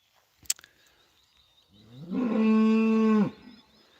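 A sharp click, then a single long, loud moo from a cow calling its calf on a rainy, foggy day, rising and holding for over a second before cutting off, with a quiet background.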